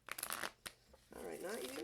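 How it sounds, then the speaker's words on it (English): A deck of large cards being shuffled, quick papery riffling bursts close by, then a voice speaking over the card noise. "I used to have no problem shuffling the big cards"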